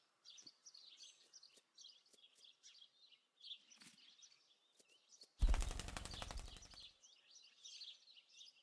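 Birds chirp quietly, then a sudden loud rapid flapping burst of a crow taking off in the video game Martha Is Dead, rattling like gunfire for over a second before chirping resumes.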